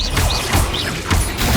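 Explosive Bombarda spell impacts in Hogwarts Legacy on PS5, a few heavy blasts and crashing debris bursts spaced across the short stretch, loud and up close with no talk.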